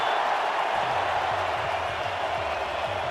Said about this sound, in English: you can hear the crowd ecstatic over getting that 1st down